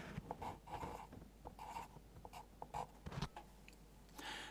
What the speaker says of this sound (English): cross out a complete word using one line with a pencil.